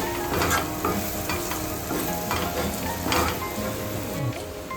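Mushrooms cooking in a pan for a broccoli salad give off a low, steady sizzle, broken by the clatter and scrape of stirring, heard close up with no one talking.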